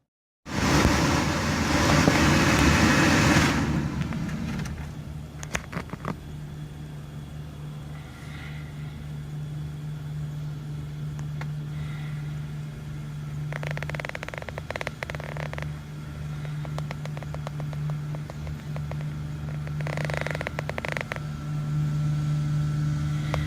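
A mosquito fogger truck drives past spraying insecticide, a loud hissing blast at first, then a steady engine drone with a constant low hum and intermittent rushes of spray noise.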